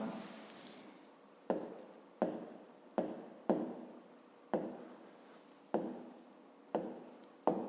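Pen or marker strokes writing on a surface, about nine sharp scratchy onsets each trailing off, in a steady rhythm, close and fairly quiet, with no talk.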